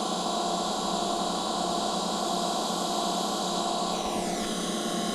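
A dual matrix reverb built on Householder matrices, set to permanent sustain, rings as a dense, unbroken wash of tone that holds at a constant loud level, with a pitch glide sweeping downward near the end.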